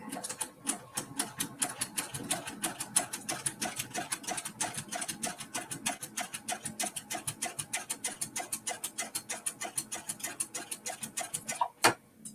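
An embroidery sewing machine stitches a mini-quilt, its needle ticking in a fast, steady mechanical rhythm that runs unbroken and fairly close, alone with no voices, ending in a sharp louder click.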